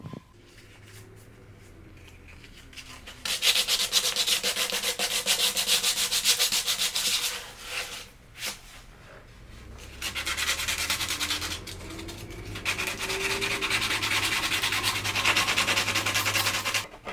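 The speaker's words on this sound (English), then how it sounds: "So I'm gonna sand that off or cut that off with the razor blade." Close, raspy sanding on a maple repair at a skateboard tail comes in two long bursts of repeated back-and-forth strokes, separated by a short, quieter pause.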